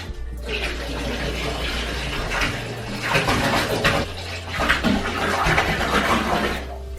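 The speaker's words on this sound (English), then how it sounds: "you just put a bunch of bleach in a bathtub of warm water" Warm water runs steadily into a bathtub as it fills, with bleach added to soak jeans. A continuous rushing splash sounds close by in a bathroom, with no voices.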